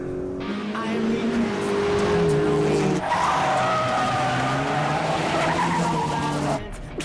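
Race car tires squeal and skid loudly through a hard corner in an anime mountain race, a sustained screech with engine roar that cuts off abruptly near the end.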